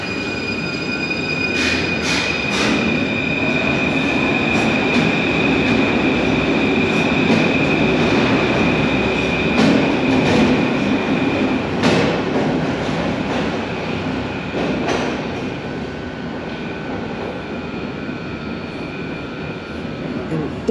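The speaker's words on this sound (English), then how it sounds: "This train will now leave." A Paris Metro train pulls out of a station platform with a loud, steady rolling rumble and a high whine, then fades slightly toward the end.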